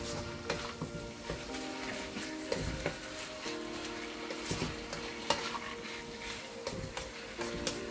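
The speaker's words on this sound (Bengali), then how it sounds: "আর একটু ভালো করে নাড়াচাড়া করব।" Pieces of chicken breast fry in a pan for vegetable fried rice, a steady sizzle broken by repeated scraping and clattering stirs of a spatula at close range, with no one speaking.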